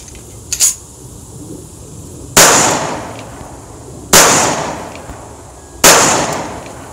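Three sharp, loud pistol shots from a Girsan 1911 firing brass ammunition ring out outdoors, spaced roughly two seconds apart, each with a brief echoing tail, after a couple of faint handling clicks.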